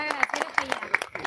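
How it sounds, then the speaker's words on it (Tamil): Applause for an honoured participant at a Tamil certificate and felicitation ceremony, a short burst of steady hand clapping from the gathering, fairly close, with a voice speaking over it. "அவருக்கு ஒரு கரகோஷம் அழைப்புமாறு அன்போடு கேட்டு வருகிறோம்"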